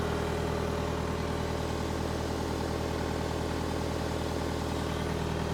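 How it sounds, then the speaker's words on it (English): A Deutz diesel engine idles steadily in a Power Trac 1850 tractor, a close, loud, continuous rumble with a constant chugging pulse and no voices. "We do have a running engine"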